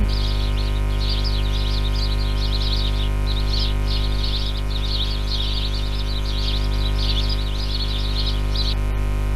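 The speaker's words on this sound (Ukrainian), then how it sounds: "Цвірінькають веселі горобці." Many sparrows chirp busily and continuously over a steady low hum, their bright twittering layered and fairly close.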